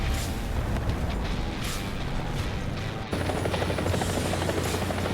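Loud, steady chopping roar of a helicopter in a tank combat video game, continuous throughout with a brief dip and a shift in tone near the middle.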